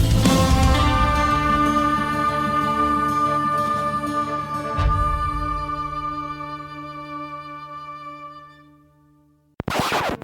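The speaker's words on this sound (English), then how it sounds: "That's the sound of multiple skyships." A dense, rumbling sci-fi sound effect of several skyships flying, with layered droning tones that swell near the start and gradually fade out, followed by a brief burst at the end.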